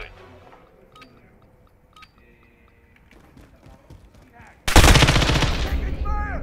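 Gunfire in Call of Duty: Modern Warfare, quiet game ambience with scattered clicks and a voice, then a sudden loud, sustained burst of rapid automatic fire that continues to the end.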